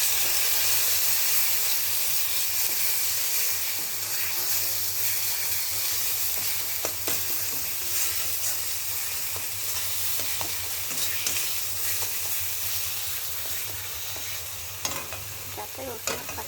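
Ground spices and salt being stirred in a frying pan with garlic, a dense steady sizzle and hiss with light spoon scrapes, growing more broken and clattery toward the end; close, no talk.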